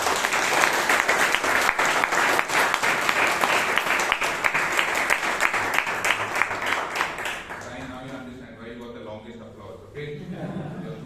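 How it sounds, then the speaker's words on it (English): Sustained applause from a Toastmasters meeting audience after an induction ceremony, steady clapping that fades out near the end as a voice begins speaking. "the entire induction ceremony a big round of applause"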